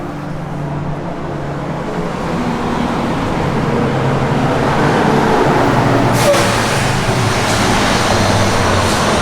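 A 1981 Chevrolet Blazer K5 restomod on the move, with a steady, loud wash of road and engine noise that builds slightly and holds throughout, without any talking.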